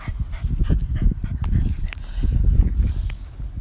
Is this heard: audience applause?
no